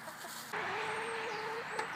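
A laying hen gives a short, drawn-out cluck close by, with quiet background noise around it.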